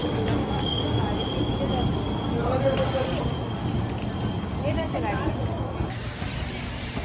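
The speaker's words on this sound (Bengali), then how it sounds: "দু নম্বর প্ল্যাটফর্মে বোলপুরে এই যে ট্রেনটি ঢুকছে এটি হলো ডাউন রামপুরহাট শিয়ালদা মা তারা এক্সপ্রেস" An express train rolls into a platform at Bolpur Shantiniketan station with a steady rumble and intermittent high metallic wheel squeals, voices talking over the noise throughout.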